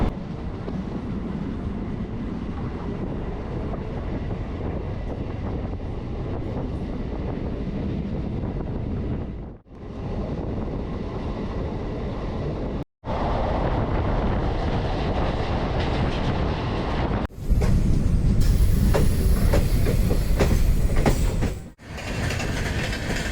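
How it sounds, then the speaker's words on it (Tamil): Passenger train departing and running toward Tiruvallur, a long steady rumble with clickety-clack of wheels on rail joints, heard from inside the carriage, with abrupt loud shifts as sections pass. "ட்ரெயின் எடுத்துட்டாங்க."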